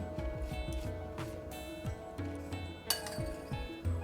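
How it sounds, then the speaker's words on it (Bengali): Dry ground oats and roasted semolina are stirred together in a bowl, the spoon clinking repeatedly and rhythmically against the rim, close and fairly loud, with no voices. "এবার এর মধ্যে ভেজে রাখা সুজিটা দিয়ে একটুখানি মিশিয়ে নেব"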